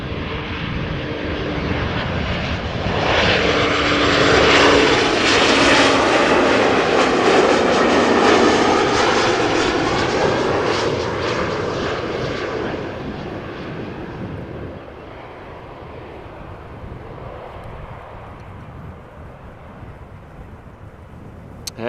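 KLM Embraer 190 jet arriving at Amsterdam Schiphol Airport from Dublin, a loud broadband engine roar building and holding for about twelve seconds, then fading to a steadier distant rumble with some wind noise.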